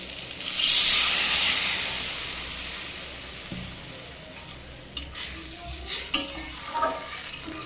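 Salted turmeric water poured into potatoes frying in a pan sets off a loud burst of hissing sizzle that fades, followed by a few spatula clicks and stirring scrapes.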